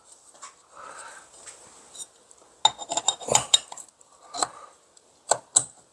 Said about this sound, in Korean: 여기 상태에서 위에 상판을 조립을 하겠습니다